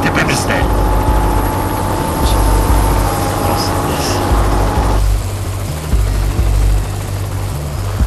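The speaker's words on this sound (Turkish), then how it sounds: "Helikopter var tepemizde." A helicopter passes overhead with a steady, loud low-frequency rotor thrum and whine that continues throughout, with a shift in tone partway through.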